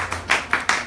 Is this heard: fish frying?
no